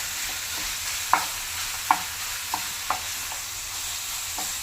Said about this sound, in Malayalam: നമ്മൾ സ്റ്റിർ ഫ്രൈ ഒക്കെ ചെയ്യണം